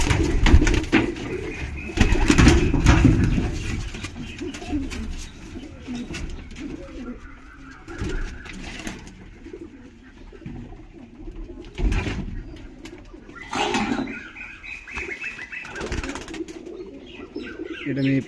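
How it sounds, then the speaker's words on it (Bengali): Pigeons kept for flying, a female among males, coo in low murmurs with occasional wing flaps and faint chirps, fairly close amid a busy, noisy background with bursts of louder rustling. "এটা মেয়ে পায়রা।"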